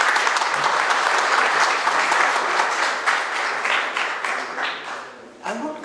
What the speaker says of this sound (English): Please give a round of applause to the children and the teacher